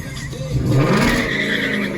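Tires squeal as a car burns rubber on a street during the Cruisin State Street car show in Fremont, Ohio, a brief, loud screech over a revving engine, with no talk.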